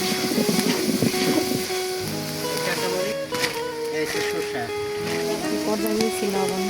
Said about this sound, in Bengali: মুরগি রান্না করবো তেল দিয়ে দিচ্ছি পরিমাণ গরম মশলা পেঁয়াজ বাটা রসুন বাটা এখন ভালোভাবে কষিয়ে নেব